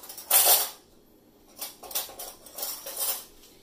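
A metal spoon scoops titanium dioxide powder out of a container in a home kitchen during soap making, giving a few short scraping clinks near the mic, one louder at first and then a run of quieter ones.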